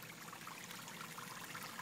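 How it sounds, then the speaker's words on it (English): Flood water pumped by a sump pump gushes out through a hose into a flooded yard, a steady, even rushing stream with no break, close by and fairly quiet. "this is the water that the sump pump is pumping out"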